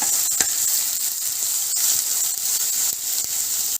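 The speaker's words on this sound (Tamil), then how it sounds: "தேவைக்கு உப்பையும் போட்டு நல்லாவே வதக்கிக்கோங்க" Green chili, ginger and garlic with salt being sautéed in a pan, giving a steady bright sizzle and hiss with occasional light clinks and stirring ticks, close and even throughout.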